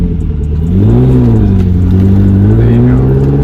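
A 1997 Lotus Esprit V8 twin turbo engine pulls loud and close while driving, its pitch rising and falling in a smooth sweep under a steady roar.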